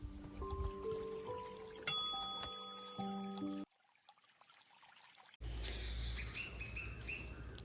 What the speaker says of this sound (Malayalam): ഈ കിളികളുടെ സൗണ്ടൊക്കെ കേട്ടോണ്ടിരുന്നപ്പോൾ ഒരാഗ്രഹം